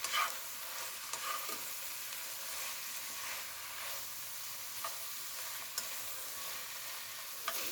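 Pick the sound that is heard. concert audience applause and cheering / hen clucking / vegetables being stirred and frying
vegetables being stirred and frying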